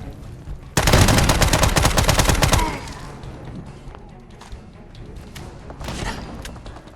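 An SMG fires in a video game, one loud, close burst of rapid automatic shots lasting about two seconds, followed by quieter ambient game noise with a few faint distant sounds.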